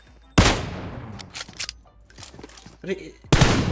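Gunfire in PUBG Mobile, loud sharp shots at the start and end with a few scattered smaller bangs and echoing tails between them, fairly close.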